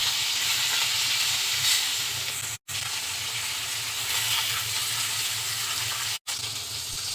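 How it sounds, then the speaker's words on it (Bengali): Pieces of rohu fish fry in hot soybean oil in a pan, a loud continuous sizzle and crackle with two brief breaks, and no talking. "মাছের একটা সাইড ভাজা হয়ে গেলে উল্টিয়ে অপর সাইড ভেজে নেব।"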